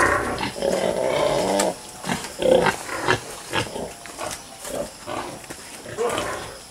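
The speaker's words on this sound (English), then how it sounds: "check to see if this sow down here has had her piglets yet" A sow that is two days overdue with piglets grunts and growls in her pen, several rough, close grunts in uneven bursts with short pauses between them.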